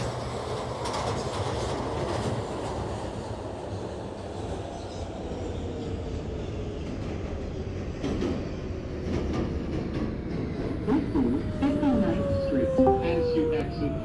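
An R142A subway train on a simulated New York line rolls and brakes with a loud steady rumble, rhythmic wheel clatter and rising squeals near the end, as voices talk over it.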